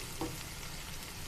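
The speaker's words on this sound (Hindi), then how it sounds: "तक इस ज़ीरे को थोड़ा सा भूनना है, इससे ज़्यादा ज़रूरत नहीं है। ये मैं तड़का लगा रही हूँ।" Cumin seeds fry in hot oil as a tempering (tadka) for dal, a soft steady sizzle with a brief stir sound, faint and close.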